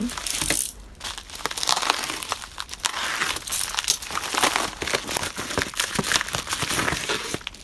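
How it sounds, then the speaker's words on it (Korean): A newly bought book's plastic packaging being torn open by hand, loud close crinkling and ripping that continues in dense irregular bursts throughout. "뜯어볼게요"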